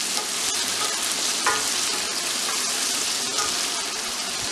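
Mango pickle being mixed in a pan over a low flame gives a steady, close sizzle with continuous stirring scrapes, plus one brief sharper clink partway through.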